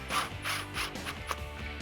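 A 13 mm deep socket tightens a nylon lock nut on a Ram 1500 leveling kit, giving a few short, close ratcheting and grinding strokes in an uneven rhythm.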